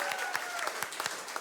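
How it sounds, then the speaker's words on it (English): Studio audience applause greeting a Labour MP for Dunedin North on a political panel show, a brief burst of clapping with individual claps standing out, heard alone. "a big round of applause for Labour MP for Dunedin North"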